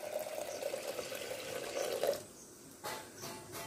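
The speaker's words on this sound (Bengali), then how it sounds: "ডালটা যাতে ডুবে থাকে এমন ভাবে জলটা দিলাম" Water poured into a pot of split peas for dal, a soft trickling stream for about two seconds before it stops, followed by faint clinks and handling noises, fairly quiet and close.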